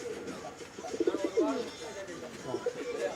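Racing pigeons in a loft give soft, throaty coos, a short burst of warbling calls in the middle over low background noise, fairly close, with faint voices around.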